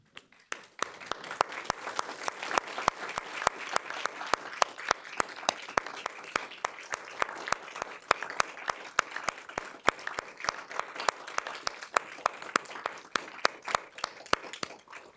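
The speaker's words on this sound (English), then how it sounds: "let's offer these folks a round of applause and thanks" Audience applause at a District 46 town hall meeting, a standing crowd clapping steadily and fairly sparsely, individual claps distinct, sustained for the whole stretch at moderate distance.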